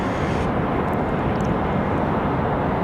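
Moxie flight 702 from Orlando, an airliner at Raleigh-Durham International Airport, gives a loud, steady, close engine roar that fills the short stretch without a break.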